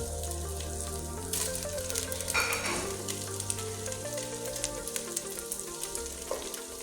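Chicken frying in a pan while layering a homemade biryani, a steady close sizzle and crackle with a few louder spits and stirring sounds, no voices.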